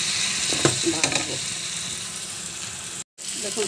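Fish curry ingredients, including potato, cauliflower, white brinjal and green chillies, fry in hot oil in a pan with a loud, steady sizzle and a few stirring scrapes, no talking.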